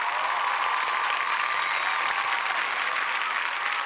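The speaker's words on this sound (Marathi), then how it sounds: "आईंचं पात्र साकारणाऱ्या शकुंतला नरे यांच्यासाठी जोरदार टाळ्या." A theatre audience applauds actors as they are introduced one by one, a dense, steady wash of clapping that holds at an even level from start to finish with no voices over it.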